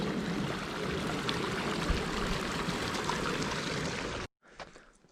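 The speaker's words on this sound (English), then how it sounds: "Ooh, we got a waterfall." Waterfall in a creek on a canyon hike, a steady broadband rush of falling water heard close and continuous before it cuts off abruptly near the end.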